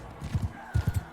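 Horse hooves clop in two quick groups of three in Mount & Blade II: Bannerlord, a soft, muffled rhythm of a galloping mount, fairly quiet.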